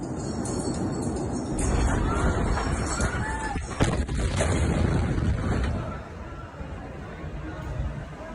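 Recording of the Beirut explosion: a loud, dense roar of blast and rumble fills the clip, with a sharp burst near the middle and no clear speech.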